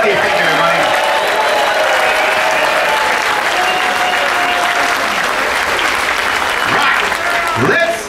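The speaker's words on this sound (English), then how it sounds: "Let's give them a big round of applause as well." Loud, sustained applause from a roomful of people aboard a cruise ship, continuous clapping that swells slightly near the end.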